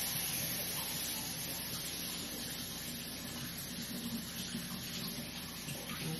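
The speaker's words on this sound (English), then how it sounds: "let me rinse my hands off" Tap water running steadily into a kitchen sink while hands are rinsed, a faint, continuous hiss with light splashing.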